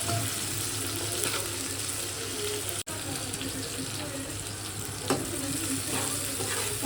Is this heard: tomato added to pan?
yes